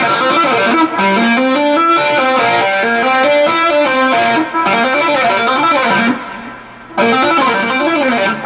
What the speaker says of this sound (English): Tap the 9 G, so it's 4 fingers involved in this tapping.